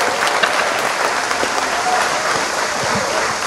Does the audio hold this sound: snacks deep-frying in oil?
no